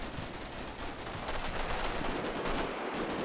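Dense, continuous gunfire crackles through a wargame battle scene, a steady roar of shots with no clear breaks, loud and close with no voices.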